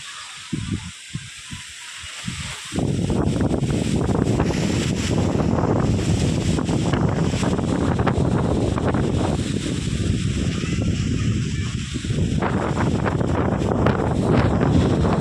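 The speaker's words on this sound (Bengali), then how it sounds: "খুব ঝড় হচ্ছে দেখুন, তাও বৃষ্টি হচ্ছে না, একটুও বৃষ্টি হচ্ছে না।" Strong storm wind battering a rooftop at a village home, starting with gusty buffeting for a few seconds, then a loud, continuous roar that dips briefly midway and surges back, with no rain and no voices.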